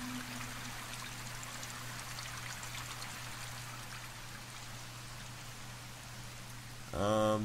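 Rain falls in Myst V: End of Ages as a steady hiss of drops and trickling water over a low hum, ending with a brief louder burst of sound at the very close.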